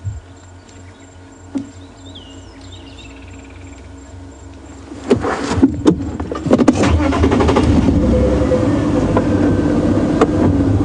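A safari vehicle's engine turns over and rumbles into a steady idle partway through, fairly close and loud, with faint outdoor ambience and small bumps before it at Djuma Game Reserve.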